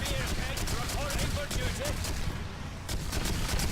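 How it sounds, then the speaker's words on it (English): Video game battle gunfire from Divinity: Dragon Commander, with repeated sharp shots and bursts over a dense rumbling din, a brief lull near the end, and fragments of voice in the mix. "So much damage, so much shooting."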